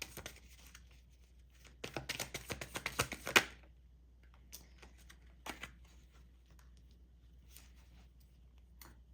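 Tarot cards being shuffled by hand: a dense burst of riffling and slapping in the first seconds, then a few scattered, softer card flicks and taps in a quiet room.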